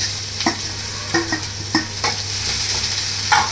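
Cumin seeds and onion fry in a pan, a continuous sizzle broken by several sharp scraping strokes of a spoon at an uneven pace, close and with no talking.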